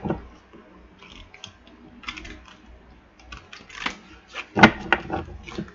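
A deck of tarot cards is shuffled by hand, producing quiet clusters of papery riffles and flicks, with one sharper snap near the end, under faint background sound.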